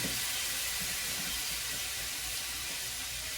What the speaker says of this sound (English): I'm just going to let these saute on a low